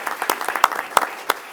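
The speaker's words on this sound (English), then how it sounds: "A round of applause for one of our former board members right there, Mr. Steve Cruz." A few people at a board meeting clap in a short, sparse burst of scattered hand claps, with several sharp distinct claps standing out over a thin room background.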